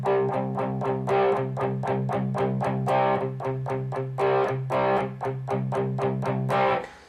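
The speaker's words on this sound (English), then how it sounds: "we don't have to be using this much distortion" An electric guitar played through a distortion effect chugs out a steady, rapid rhythm of short, palm-muted chord strokes, loud and close, with no talking.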